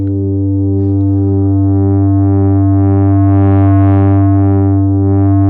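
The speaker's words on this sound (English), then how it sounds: "as soon as I touch this knob, boom, the distortion jumps in" A sustained Bass Station II synth tone plays with a pulsing, wobbling timbre that grows gritty and brighter as its distortion is dialed up.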